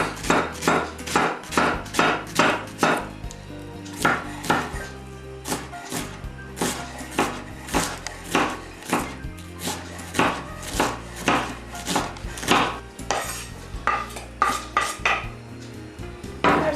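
Finely chopping an onion on a board: a long run of quick, regular knife strikes, close and fairly loud, with a few brief pauses between bursts and no talking.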